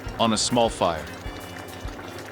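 Water is poured over paella rice in a pan, a steady splashing rush with a few gurgling rises near the start that settles into a continuous hiss.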